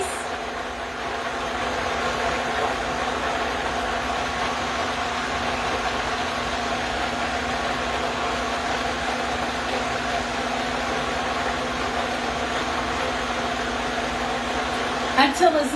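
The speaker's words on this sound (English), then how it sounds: "So I'm blending this." A blender runs steadily, whirring through soaked cashews and their soaking water with a constant drone and a low hum throughout, ending in a short clatter as it stops.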